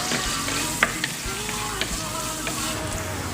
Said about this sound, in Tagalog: magigisa tayo ng sibuyas para sa ating shawarma